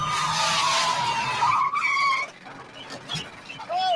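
A small bug-like car skids during a film chase scene, its tires letting out a loud, sweeping squeal that fades into rougher rolling noise and a second shorter squeal at the end.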